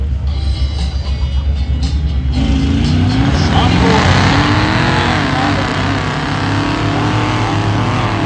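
A Chevy Blazer mud racing truck, the green Grinch, roars and revs hard at a mud racing event, its engine surging loud and close while an announcer talks over it.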